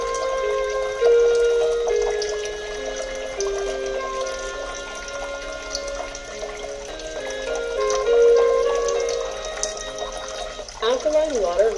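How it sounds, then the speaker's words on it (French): Water from a Kangen water ionizer in cleaning mode runs into a small bucket as a continuous trickle and pour, heard under speech and tonal machine sounds. "soit l'eau vous la jetez, ou soit, comme vous voyez, moi je récupère l'eau dans un petit seau."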